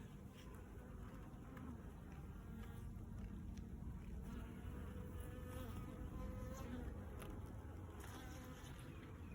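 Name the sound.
bees buzzing around an open hive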